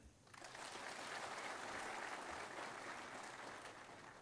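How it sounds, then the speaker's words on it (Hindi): Applause at an Assam Rifles retirement ceremony honoring retiring personnel, a broad, sustained crowd clapping that swells in quickly and holds steadily, heard from a distance. "कृपया जोरदार तालियों से हमारे परिवारगण का स्वागत करें।"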